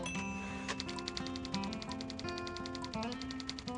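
Rapid mechanical typewriter-style key clacks in the video game Thimbleweed Park, a fast steady run of clicks over a soft electronic music bed, with no talking.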